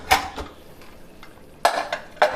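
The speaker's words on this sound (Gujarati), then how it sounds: "હવે આપણે આ કુકરના ઢાંકણને ખોલી અને આપણા શાકને જોઈ લેશું" Metal lid of a pressure cooker holding pea and potato curry being handled and opened: a few sharp metallic clanks, one early and two close together near the end, separated by quiet.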